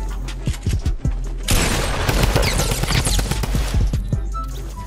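A Tommy Gun, the drum gun in Fortnite Battle Royale, fires loud, continuous rapid bursts of gunfire. Earlier scattered shots lead into a sustained stream of fire.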